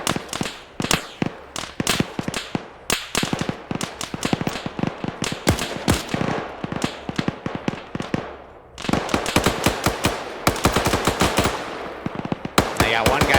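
Rapid gunfire in a military shooter set in urban Middle Eastern streets, dense bursts of close, loud automatic shots with short pauses between volleys, with faint voices in the background.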